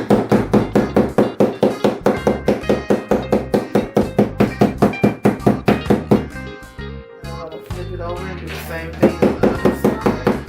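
Cactus being struck repeatedly to beat holes in its side, a steady run of loud, close knocking thuds in quick regular rhythm, then a shorter irregular patch before the knocking resumes.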